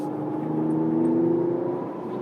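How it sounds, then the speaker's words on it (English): A Mercedes-AMG CLS 53 4Matic+ downshifting on an off-ramp, a steady engine hum rising in pitch through the middle, heard from inside the cabin at moderate loudness. "You hear it downshifting."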